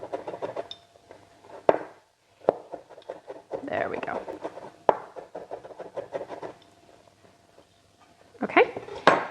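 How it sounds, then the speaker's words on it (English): A knife chops ginger on a cutting board in a home kitchen, giving irregular sharp taps and scraping rubs with brief pauses, close and moderately loud. "we'll just chop it up a little bit more"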